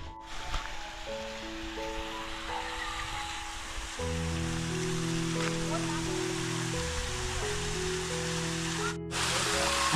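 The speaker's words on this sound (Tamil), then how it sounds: "அந்த தண்ணி அந்த திட்டில் விழும்போது" Masila waterfall in the Kolli Hills pours onto a rock ledge in a steady, even rush of white noise, with a gentle melodic music track playing over the falling water throughout.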